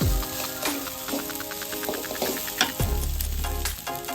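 Fried rice fries in a hot pan with a close, steady sizzle, broken by scraping and stirring strokes, with no talk.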